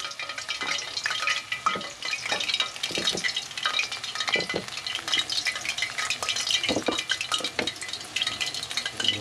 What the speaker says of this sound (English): Listen to the juice coming out of the meat.